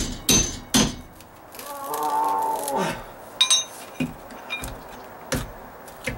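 A fiberglass-handled hammer strikes rotted deck wood in a handful of sharp, separate knocks, close by. A brief voice-like sound rises between the blows.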